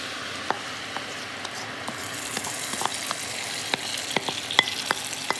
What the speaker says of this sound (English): toss your apples around in that butter